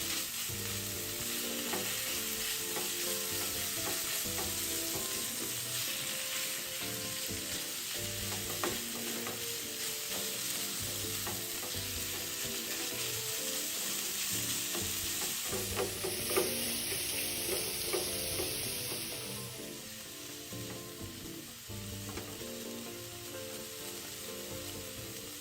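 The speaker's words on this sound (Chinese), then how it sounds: "接着將肉末炒散" Minced pork belly and onion are stir-fried in a pan, sizzling steadily and close by under repeated scraping and stirring strokes, then easing slightly toward the end.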